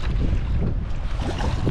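Strong wind roaring and buffeting the microphone while sailing a boat on open water, a steady loud rush with water noise beneath.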